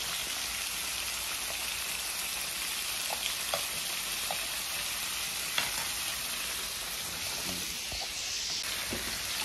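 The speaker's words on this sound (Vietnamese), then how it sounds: "nướng lòng nha, lòng nướng với thịt nha các bạn" Pork ribs and intestines grilling over heat give a steady, dense sizzle and crackle throughout, with occasional sharp pops and spits standing out close by, and no voices.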